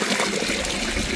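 Water splashes and churns continuously at a waterfall, a dense, close rushing spray with no pauses over the short stretch.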